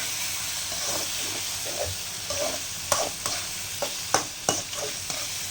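Tomatoes sautéing in a pan for semiya upma, with a steady low sizzle under repeated sharp clinks and scrapes of a spoon stirring against the pan, close and moderately loud.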